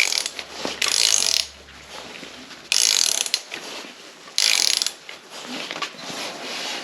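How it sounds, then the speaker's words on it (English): A ratchet turns the crankshaft of a 1980 Honda CB900C engine in three loud bursts of rapid clicking, with quieter mechanical rustling between them. "I'm going to just rotate the crank a couple more times."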